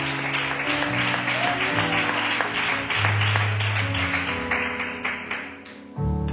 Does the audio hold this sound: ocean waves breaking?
no